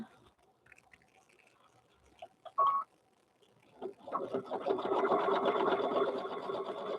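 After a few quiet clicks and fabric handling, a sewing machine starts up and runs in a steady, continuous whir, stitching around the seam of a fabric bear.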